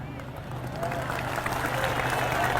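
A mosque congregation applauds during an Islamic sermon, a steady dense clapping that fills the room at moderate loudness and holds evenly from start to end, with a low hum underneath.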